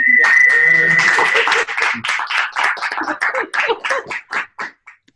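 Remote audience applause over an online colloquium call: a tonal beep and voice at first, then a run of uneven, individual claps that thin out and stop, sounding small and slightly compressed.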